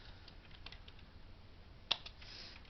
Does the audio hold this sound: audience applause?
no